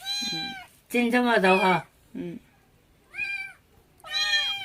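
A small kitten shut in a cage cries out toward its mother outside, giving several short, plaintive meows close by, spaced between bursts of a person talking.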